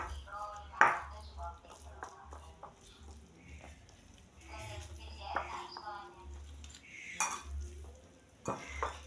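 Rendang-flavoured instant noodles are stirred in a pot with a wooden ladle, giving soft scraping and occasional knocks against the pot under steady talking.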